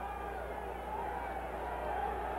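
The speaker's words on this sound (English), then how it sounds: "They are cheering and hollering." Football crowd at RFK Stadium on Christmas Eve cheering and hollering after a big hit, a steady, distant wash of roar and babble with no breaks.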